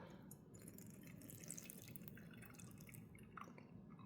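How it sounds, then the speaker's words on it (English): Hot water is poured over raw pu'er tea from the Kallisti blend, giving a soft, continuous trickling splash with small drips close by and no voices. "And we'll pour the rest on this fella."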